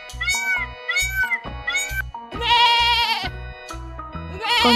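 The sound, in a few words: peacock calling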